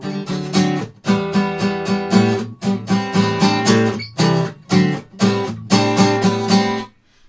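An electric guitar plays the segue into the intro of a song, choppy rhythmic chord fragments in short bursts with brief gaps, loud and close, with no talking.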